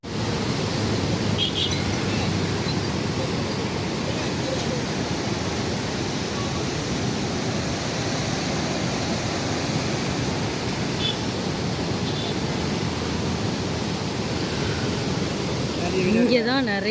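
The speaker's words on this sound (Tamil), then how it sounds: "ஆர்ப்பரிக்கும் மேட்டூர் அணை தண்ணீர் செம்மையாக இருக்குல்ல." Water released from Mettur Dam roars in a loud, unbroken rushing wash, with faint bird chirps over the torrent.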